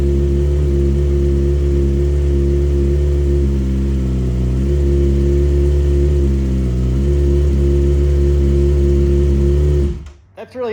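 A Yamaha R6 sport motorcycle engine idles loud and close with a steady, rough mechanical drone, small rises in revs along the way, before cutting off abruptly near the end.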